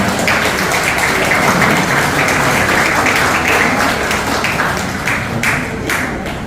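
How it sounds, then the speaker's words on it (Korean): Congratulatory applause at a horse-racing trainers' association retirement ceremony, as plaques go to retiring trainers: a hall full of people clapping steadily and loudly, with occasional thumps, sustained throughout. "축하의 박수를 주시기 바랍니다"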